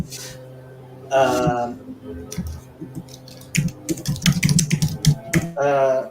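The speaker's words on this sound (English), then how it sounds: "Your typing was very loud" Rapid, loud clattering of computer keys in irregular bursts, close by, with a person talking in between.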